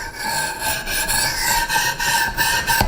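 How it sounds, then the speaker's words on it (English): A 1000 grit sharpening stone on a Wicked Edge sharpener is drawn lightly along a knife edge in repeated short strokes, a close, steady rasping rub with a faint rhythmic pulse. "I'm gonna place my 1000 grit stone back on the side. I'm going to run it along the edge here very lightly"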